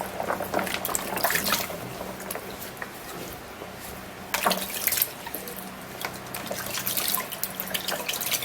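Running tap water splashes and patters in bursts as a waist trimmer is washed under it, close and moderately loud, with no speech.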